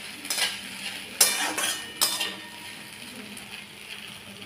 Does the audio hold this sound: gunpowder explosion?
no